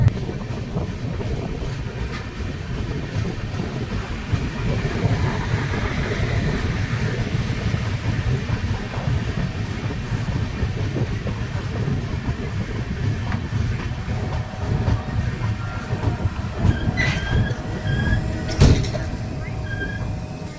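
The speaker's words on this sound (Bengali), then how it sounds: "নির্ধারিত সময় থেকে প্রায় একুশ মিনিট দেরিতে ট্রেন এসে পৌঁছালো উলুবেরিয়া" The Tamralipta Express pulls into Uluberia station, a steady loud rumble of wheels and rolling cars building and holding for a long stretch, with station noise, a few sharp clanks and brief voices near the end.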